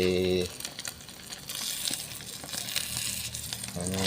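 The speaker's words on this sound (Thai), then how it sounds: "ทอดไข่" Eggs fry in a pan with a steady crackling sizzle, while a voice briefly sounds at the start and again near the end.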